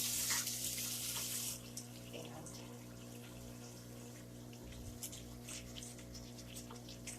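Water running from a kitchen sink tap while potatoes are prepared for supper, a steady close hiss with a splashy start, continuing beneath faint background hum and occasional light clinks.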